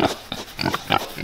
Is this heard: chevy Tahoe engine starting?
no